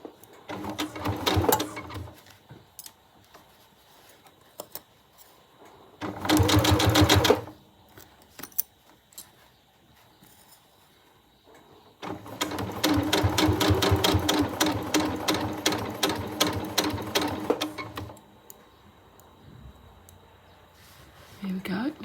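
Sewing machine stitching a quilted pouch in rapid rattling bursts, a short run, a second brief run and a long steady stretch, with someone talking quietly in the pauses.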